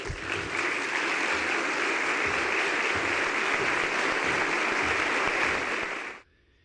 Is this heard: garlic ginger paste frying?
no